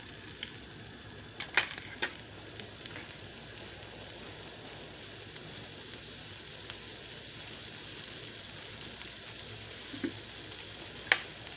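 Butter sizzles softly and steadily in a hot pan, with a few scattered clicks and taps of a utensil.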